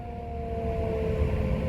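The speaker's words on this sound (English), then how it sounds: "Siren's going off." A tornado warning siren wails during a tornado near Cole, Oklahoma, a steady sustained tone heard at a distance over low wind rumble.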